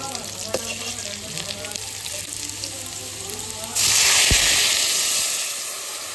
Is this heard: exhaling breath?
no